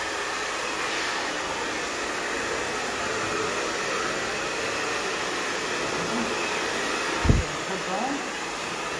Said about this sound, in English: I'm just going to grab a hairdryer